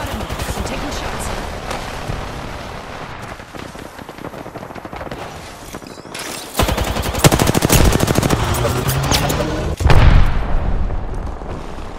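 Rapid automatic gunfire rattles in Apex Legends, with bursts of shots and impacts coming in waves that grow louder partway through, backed by a busy in-game sound mix.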